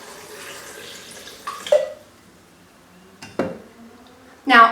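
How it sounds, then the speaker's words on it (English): Water poured into a blender for a Singing Canary drink, a steady rushing splash for over a second, followed by a few sharp clinks and knocks of utensils and containers nearby. "I'm going to go ahead and put in some of the water."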